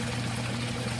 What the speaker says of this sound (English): that inflow of side water there is still really pouring in from both sides